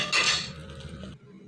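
A spoon scrapes and clinks against a metal pot while stirring jeera rice with coriander and tempering, a bright metallic rattle that fades before a short quiet end.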